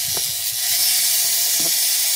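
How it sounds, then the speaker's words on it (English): A rotary tool spinning at about 5,000 to 6,000 RPM carves fire agate stone outdoors, giving a steady, loud, hissing grind that holds continuously with a few faint low knocks underneath. "Let's do a little carving."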